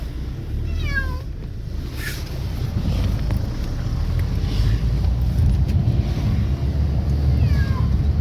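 Pet cats riding in a moving car give a few short meows, one near the start, one briefly after and another near the end, over steady engine and road rumble.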